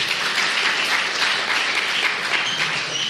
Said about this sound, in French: on peut applaudir, gloire à Dieu